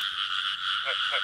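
A chorus of frogs calling in a field before dawn, with dense steady trilling and a couple of lower croaks near the end, close and loud in a brief stretch with no talk.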